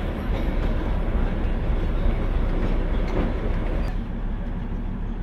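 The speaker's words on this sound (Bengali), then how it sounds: "জঙ্গলের মধ্যে দিয়ে গাড়ি আপাতত, আমাদের টয় ট্রেন আপাতত এগিয়ে চলেছে রংটংয়ের পথে।" Darjeeling toy train rolling through forest on the route toward Rongtong, a steady close rumble of wheels and carriage noise with faint rail clatter, continuous and even throughout.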